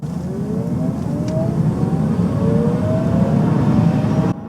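A 2017 Chevy Bolt accelerates hard, its electric motor giving a rising whine that climbs steadily in pitch over road and tyre rumble, close and continuous.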